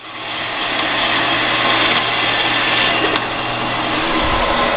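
A 7-by-12-inch metal-cutting band saw with a 3-speed gearbox runs steadily, giving a loud, even mechanical whir and motor hum that holds level throughout, with no talk.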